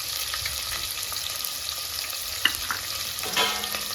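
Sliced onions and five green chilies fry in a pan with a soft, steady sizzle and stirring scrapes, plus a single sharp utensil clink partway through. No one speaks.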